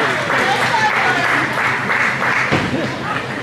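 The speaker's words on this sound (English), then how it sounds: "Give them a round of applause." Crowd applause for couples taking the floor at a juvenile Latin dance competition final: loud, continuous clapping in a large hall with voices mixed in the background.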